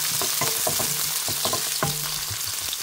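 Pancit bihon rice noodles being stir-fried make a loud, continuous sizzle, with quick rhythmic scrapes and taps of a utensil against the pan, close and with no talking.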